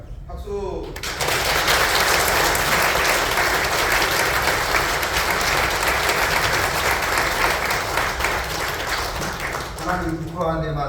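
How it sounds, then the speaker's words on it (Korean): Loud, sustained applause from a church congregation during an installation and ordination service, rising sharply after a brief pause and holding steady for about ten seconds before tapering off, with voices audible near the end. "박수."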